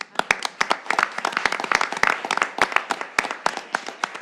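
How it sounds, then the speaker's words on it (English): Applause at a York County, Pennsylvania county commissioners meeting, a dense, lively burst of many hands clapping at close range that carries on steadily for several seconds. "they deserve a round of applause"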